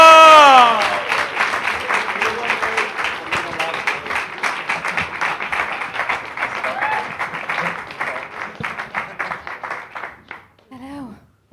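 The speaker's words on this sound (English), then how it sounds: "Let's start clapping." Audience clapping and applauding at a comedy roast, a loud burst of many hands with distinct claps standing out, rising right after a shouted voice and fading out near the end as someone begins to speak.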